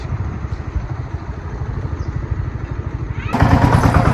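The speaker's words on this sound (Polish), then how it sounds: "Widzicie, teraz pali od pierwszej kopki." A kick-started motorcycle engine runs close by with a rapid, even pulsing beat, then grows suddenly louder and brighter in the final second.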